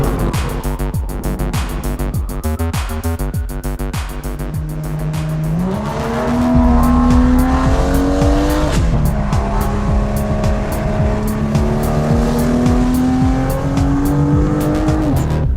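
A BMW M2 Competition accelerates hard with sustained tire squeal, its engine note rising and shifting through revs, loud and close, no one speaking.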